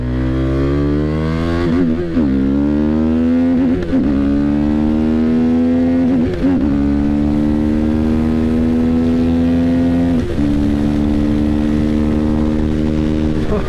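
Steady, loud motorcycle engine drone with an aftermarket Leo Vince exhaust at freeway speed, a deep rumble with brief dips and shifts in pitch, recorded close from the rider's position.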